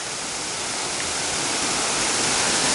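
Grotto Falls, a waterfall on the Trillium Gap Trail, pours in a constant broadband rush of falling water, close and steady, slowly swelling slightly in loudness, with no talking.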